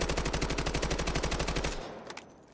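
An automatic rifle fitted with a skeleton stock fires a steady, rapid stream of shots in a video game, loud and close. The burst lasts about a second and a half, then stops abruptly, leaving only faint clicks and quiet.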